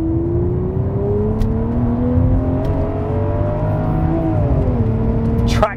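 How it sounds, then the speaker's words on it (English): A V12 car engine revs hard under acceleration, pitch climbing steadily with a brief dip at a gear change into third, loud and close. "Let's just launch it away a little bit"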